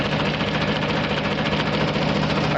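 A farm tractor that had stalled in the field runs after being tow-started, its engine idling with a steady, loud, close rumble and a knocking throb, uninterrupted by speech.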